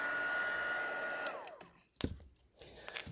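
A heat tool blows on watercolor paper pieces in a steady, close whoosh that cuts off partway through, followed by a few soft thumps and paper rustles.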